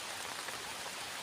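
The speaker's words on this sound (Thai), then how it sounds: "ฝนตกข้างบนออกมาฝนตก" Steady rain falls on an outdoor cassava field in Ban Khok Sa-at, a dense, even hiss of drops on surfaces with no voices.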